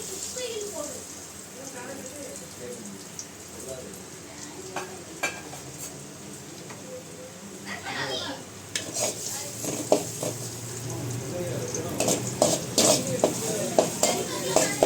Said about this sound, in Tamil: ஆயில் ஊற்றிட்டு சூடானதுக்கப்புறமேட்டு இதில் நம்ம நறுக்கி வச்ச பூண்டை சேர்த்துக்கலாம்